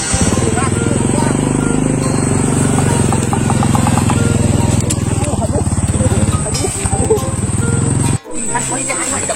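A motorcycle engine runs steadily and close by, a continuous low rumble lasting nearly the whole stretch, with a brief cut-out near the end, while people talk over it in Sundanese.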